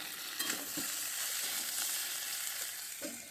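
Snakehead fish sizzles in a pan with cumin paste, a continuous close crackle broken by a few soft scraping and stirring taps.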